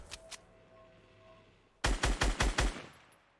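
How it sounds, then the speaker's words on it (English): Gunfire in the video game Fortnite: two faint early shots, then a loud rapid burst of about six close shots in quick succession. "we're gonna shoot him"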